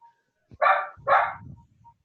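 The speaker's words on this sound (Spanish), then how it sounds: "El perrito me contestó. Wow, wow, dijo." A small dog gives two quick, sharp barks close by, a short pause between them, then goes quiet.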